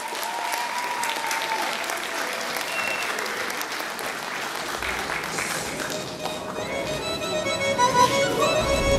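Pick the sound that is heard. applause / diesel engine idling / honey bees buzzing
applause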